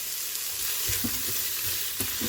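Onions frying in oil and ghee inside an Instant Pot, a constant close hiss of sizzling broken by occasional spoon stirs and scrapes against the pot.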